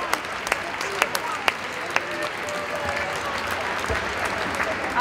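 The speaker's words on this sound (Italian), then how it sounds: "applauso." Applause at a Christmas community gathering, a steady patter of clapping with several distinct close claps early on, easing into a softer continuous wash of hands and crowd murmur.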